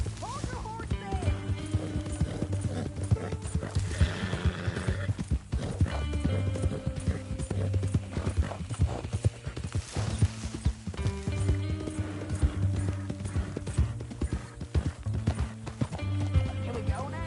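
Steady clip-clop of horse hooves with an occasional whinny in Red Dead Redemption 2, set against a looping musical score and game sound effects, with a voice speaking over it.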